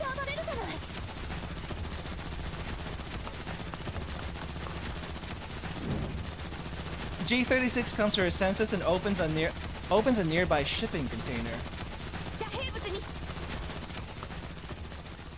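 Gunfire in the game Girls' Frontline 2, bursts of rapid automatic shots with dense crackling over a soundtrack, loudest in the middle, while a voice talks over the action.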